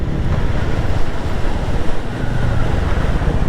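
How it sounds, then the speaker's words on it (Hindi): Fast-flowing mountain river water near Chitkul on the road to Spiti, a steady loud rushing roar heard close by, constant and broadband without pauses, and no voices. "कितना तेज पानी है।"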